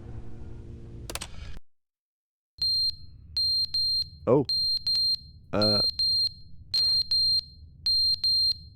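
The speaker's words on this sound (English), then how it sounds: "that battery's gone on the fire alarm" Repeated short high electronic beeps from a fire alarm with a low battery in Stanley Parable Ultra Deluxe, sounding in a regular rhythm after a brief silence, with a few words spoken over them.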